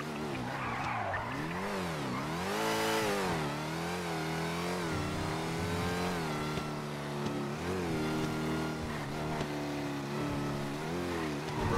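A car engine in the GTA RP video game (NoPixel) revs and whines up and down through rising and falling pitch sweeps, joined by tire squeal and skidding, loud and continuous with no talk.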